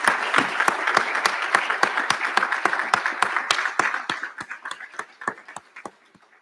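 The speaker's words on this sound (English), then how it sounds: "Let's just give them a round of applause as well" Audience applause at a school recognition ceremony honoring graduates: a dense, steady crowd ovation with crisp individual claps that thins and fades out over the last couple of seconds.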